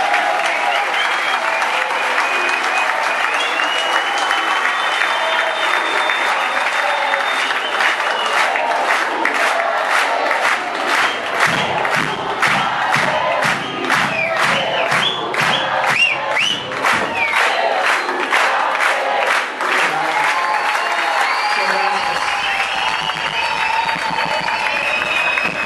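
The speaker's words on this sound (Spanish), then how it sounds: "el fuerte aplauso para todos ustedes." A reggae club audience in Buenos Aires bursts into sustained applause and cheering after a concert, a dense, loud wash of clapping with shouts that builds in the middle before tapering off.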